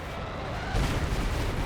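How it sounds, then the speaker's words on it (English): Artillery fires in the Company of Heroes 2 strategy game. A heavy boom lands partway through, then a rolling, rumbling barrage follows over a steady low background. "Major artillery there"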